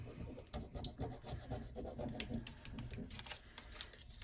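Paper is gently rubbed down onto a 12x12 Halloween scrapbook page layout, making soft, close scratchy strokes in quick repeated passes with light taps, quiet throughout.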